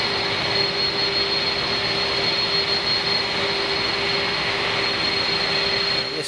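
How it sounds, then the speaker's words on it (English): A propeller plane engine drones steadily in Microsoft Flight Simulator, a loud, unbroken hum with steady whining tones that holds constant for about six seconds before easing off at the very end. "This plane sounds fantastic."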